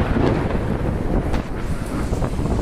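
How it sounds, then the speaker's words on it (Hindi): Heavy rain roars during a storm in Makkah, with dull rumbling swells of thunder and gusty wind buffeting close by, forming a dense continuous wash without speech. "किस तरह से बिजली गरज रही है"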